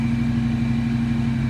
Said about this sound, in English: cold start of the O.B.S for you.